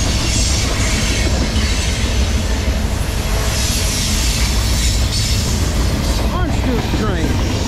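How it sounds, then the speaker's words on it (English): A CSX Tropicana orange juice freight train rolls through Edison, New Jersey, with a loud, continuous roar of wheels and cars close by. Wheel squeal rises near the end, and voices can be heard over the rumble. "I haven't caught this train in a while."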